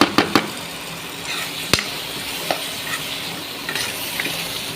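Masala sautéing in a pan for egg puffs, a dense continuous sizzle broken by several sharp clinks of a spoon scraping and tapping the pan.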